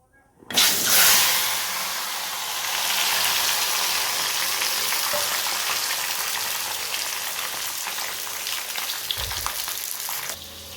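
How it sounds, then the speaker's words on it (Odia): Potatoes frying in hot oil in a kadai, giving a loud, steady, dense sizzle and hiss that starts abruptly and carries on with little change, with no talking over it. "ଆମେ ବର୍ତ୍ତମାନ ଆଳୁକୁ ଭାଜିବା।"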